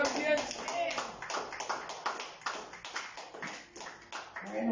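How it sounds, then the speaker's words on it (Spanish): Congregation at a Christian worship service clapping for Christ, a steady run of hand claps filling the room with voices mixed in throughout. "Entonces aplauda a Cristo"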